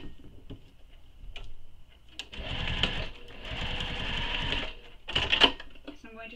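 A sewing machine stitches a nylon bag in two steady runs of rapid mechanical whirring and ticking, followed by a short final burst, with quiet handling noise in the pauses between.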